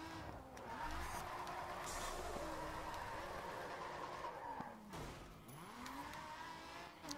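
Tires skid and squeal as a car drifts sideways through mountain corners in the racing game GRID 2, engine droning steadily underneath with pitch swoops as the slide shifts, close and continuous.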